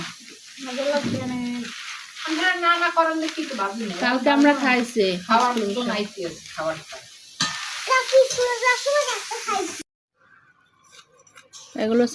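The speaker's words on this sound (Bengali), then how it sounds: "বাদাম ভাজছে" Peanuts frying, a continuous sizzle and stirring rattle running under nearby voices talking, then a brief quiet gap near the end.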